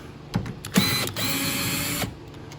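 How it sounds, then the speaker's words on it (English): A wrench loosening the three 10 mm bolts that hold the side mirror on a 2012 Toyota Corolla: a few short, close metallic clicks and clunks, then a steady mechanical rasp that stops abruptly. "we take off these 3 bolts here that hold the mirror on"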